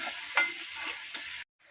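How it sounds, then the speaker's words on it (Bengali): Prawns frying in a pan while being stirred for a Bengali prawn curry, an even sizzle with a couple of sharp stirring scrapes, then a sudden cut to near silence. "চিংড়ি মাছ ভাজা দিয়ে এবার এটাকে ভালো মতো নাড়াবো।"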